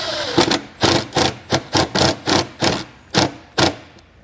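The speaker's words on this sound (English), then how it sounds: "I decided to put a self-tapper in the top of my converter box just to give it a little extra hold on it" A self-tapping screw goes into a wiring converter box on a 2015 Dodge Grand Caravan, heard as about ten quick rhythmic bursts from a driver, close and fairly loud, each a sharp buzzy pulse with short gaps.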